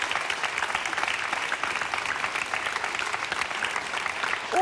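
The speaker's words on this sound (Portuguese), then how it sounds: "Um aplauso mais uma vez aqui para os nossos inscritos." Studio audience on a Portuguese live television show applauding, dense steady clapping throughout, fairly loud and without talk.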